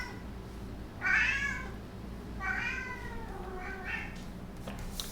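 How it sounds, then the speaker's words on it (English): Pet cats meow loudly during play fighting, with a long drawn-out call followed by two more wavering meows close by over steady background hum. "And now my cats have decided it's time for play fighting."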